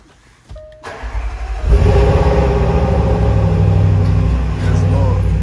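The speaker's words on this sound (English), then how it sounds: "But the best part about this car is the sound." A car engine starts and revs loudly from inside the cabin, a short crank followed by a deep sustained roar that swells and holds, with people's voices mixed in.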